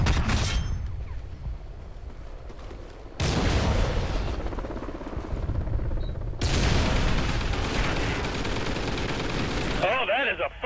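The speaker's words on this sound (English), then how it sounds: "that is a fucking sentry gun" Rapid automatic fire from a sentry gun in Call of Duty: Ghosts, dense loud bursts in sustained stretches broken by short gaps, with game effects underneath and a voice chiming in near the end.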